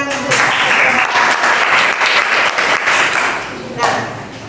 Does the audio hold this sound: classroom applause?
yes